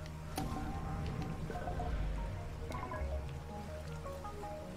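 Water rising in the video game The Unfinished Swan, heard as a continuous liquid gurgle with wet squishing drips and a low rumble, steady and fairly close, with no voices.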